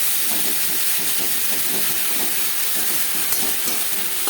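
Whole cumin seeds fry in hot oil in a kadai, a loud, dense hiss with a faint rhythmic crackle running steadily throughout.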